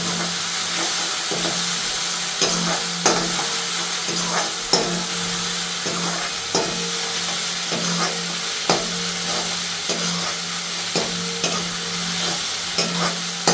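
Fresh fenugreek leaves sautéing in oil in a pan, a constant sizzle broken by regular scraping stirs of a spoon against the metal, close and alone.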